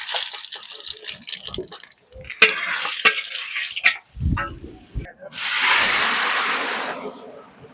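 Bay leaf, dried chilli and cumin hit hot oil in a village kitchen, a loud sustained sizzling hiss bursting in after a stretch of scattered handling noises and some faint voice.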